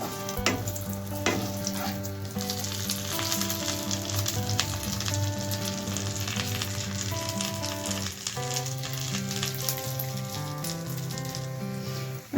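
Raisins and cashews fry in a pan for pulao, a steady close sizzle with occasional stirring scrapes and clinks, continuous for about twelve seconds without talk.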